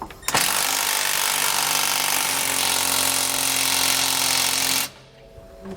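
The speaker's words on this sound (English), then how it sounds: "Now I'm going to come back with a 19mm wrench and socket and tighten up the bolt that's on our frame bracket here" A 19mm socket drives a bolt tight on a frame bracket of a 2019 Newmar Bay motorhome during a steering stabilizer install: one loud, continuous rattling burst about four and a half seconds long that cuts off abruptly, followed by quiet.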